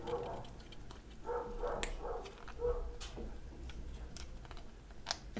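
Dogs bark in a few faint, distant bursts during the first three seconds, with small clicks and ticks nearby in an otherwise quiet room.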